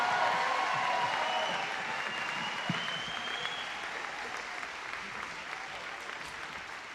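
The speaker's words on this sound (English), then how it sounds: "Give them a little bit more applause there" Sustained audience applause fills a hall at a Martin Luther King Day celebration in Ashland, steady and dense from start to finish, slowly tapering in loudness, with no voices over it.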